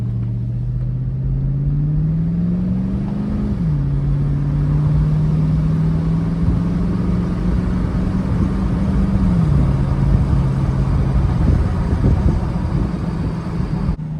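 GMC Yukon XL under restoration pulling hard on a test drive, its engine droning loud and close, rising in pitch through two gear shifts over a constant road rumble, with no talking.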